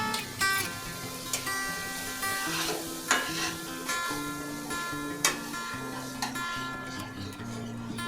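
Boiled chicken pieces being stirred in a frying pan for chicken bharta, with a gentle sizzle and repeated spoon clicks against the pan under background music.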